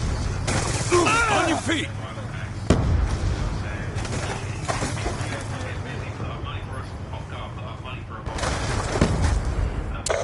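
Gunfire and explosions in the video game Call of Duty Black Ops 2, loud bursts and blasts layered under in-game announcer voices and shouted commands throughout.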